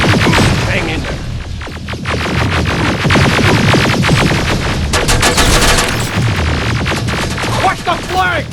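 Dense automatic gunfire and shots from Terminator: Resistance keep up a loud, chaotic barrage throughout, layered with bursts, rumbling hum and battle noise, while voices shout over the fighting.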